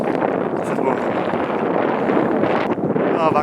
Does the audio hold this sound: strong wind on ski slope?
yes